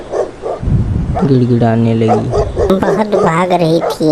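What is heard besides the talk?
dog barking in animated cartoon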